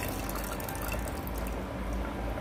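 Tamarind water is poured into simmering onion sambar in a pot, a soft continuous liquid pour and bubbling, close and fairly quiet.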